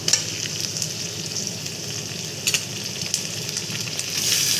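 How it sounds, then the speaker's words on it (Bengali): Chopped tomatoes fry in hot oil over already browned onions in a pan for a brinjal and river fish curry. A steady close sizzle runs throughout, with soft scraping stirs and a few sharper clinks of the spoon against the pan. "টমেটো কুচিটা দিয়ে একটু নেড়ে নেব।"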